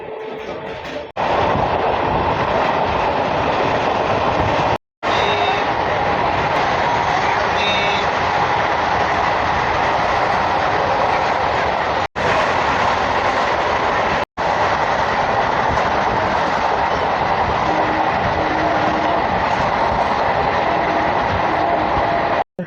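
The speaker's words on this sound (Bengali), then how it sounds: "কবিগুরু আমাদের ভালো অ্যাক্সেলারেশন করছে।" A Kabiguru Express train gathers speed on the rails between Howrah and Jamalpur, a loud, close, continuous rumble and roar of wagons with steady wheel clatter, broken by a few sharp momentary dropouts.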